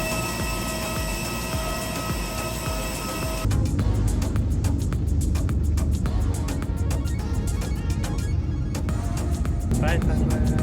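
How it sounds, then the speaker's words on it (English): Interior of a crowded long-distance bus traveling from Chiang Mai, Thailand toward Siem Reap, Cambodia: a steady low engine and road rumble with rattles, growing louder partway through, under background chatter. "Back on a bus again."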